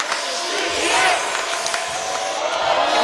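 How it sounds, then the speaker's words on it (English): Basketball arena crowd at a men's European Championship quarterfinal between Great Britain and Türkiye, a large crowd roaring and cheering steadily with whoops rising and falling, with a commentator's voice running underneath. "The crowd are loving it here."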